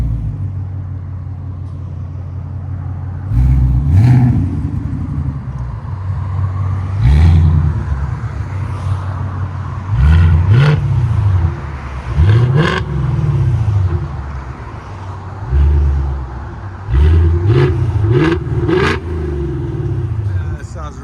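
A 2024 Ford Mustang GT with its 5.0L V8 and Valvetronic Designs mufflers, valves open, idles with a deep loud rumble, then barks through several sharp revs at uneven intervals, each flaring up and settling back to idle.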